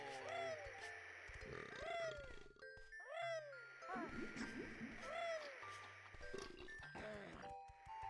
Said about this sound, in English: It's just disgusting they're making all the burp sound.